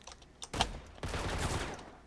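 Shotgun fire in the online game Core, with several sharp, loud blasts in quick succession breaking into a dense, rattling burst of gunfire close at hand.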